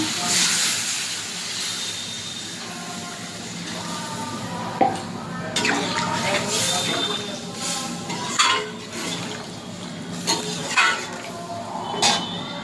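Fish curry broth with fried potato bubbling in a pot, a steady hissing simmer with scattered light clinks of utensils against the pan, close and moderately loud, no voices.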